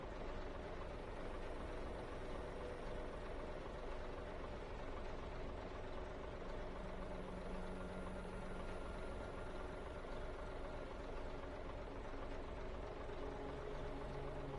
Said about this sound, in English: Get off the throttle, just coast in.